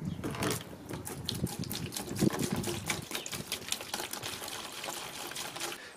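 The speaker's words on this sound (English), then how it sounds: "we just pour it straight from the container" Masonry cleaner pours straight from its container into a bucket outdoors, a soft continuous splashing trickle heard fairly faintly with no talk over it.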